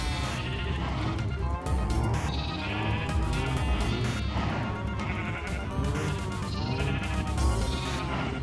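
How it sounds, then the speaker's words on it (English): Sheep bleating in a Minecraft-style video game: many overlapping bleats sounding continuously and densely, a steady loud chorus with no talk. "The sheep are back."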